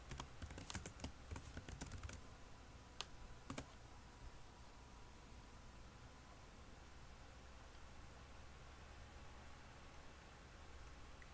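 Typing on a computer keyboard, quiet and close: a flurry of light key clicks in the opening seconds, then a couple of isolated taps, over a steady hiss of background noise.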